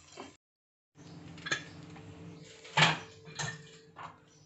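Bisi bele bath is stirred and mixed in a cooking pot, with soft irregular scrapes and clinks of a spoon against metal coming in bursts after a brief silence.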